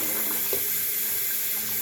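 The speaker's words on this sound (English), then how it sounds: "So what I'm going to do is rinse my face off." Tap water runs steadily into a sink at close range as a face is rinsed after a shave, a continuous splashing hiss with no talking.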